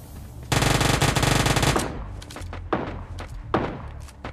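Automatic gunfire in PUBG Lite: a loud, dense burst of rapid shots for about a second, then scattered single heavy shots and thumps with echoing tails.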